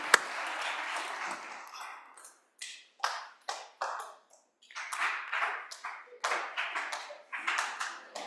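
Scattered clapping from a small group comes in uneven bursts with short gaps, fading and then picking back up.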